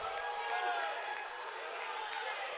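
A packed gym crowd at a Valley vs Ankeny high school wrestling meet roars continuously during a heavyweight bout, a broad sustained cheer with scattered shouts and no pauses.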